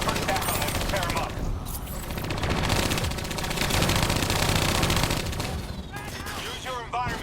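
Automatic turret gunfire in the Black Ops 3 co-op campaign, sustained rapid bursts of shooting forming a dense, loud fusillade throughout, with game voices and effects mixed in.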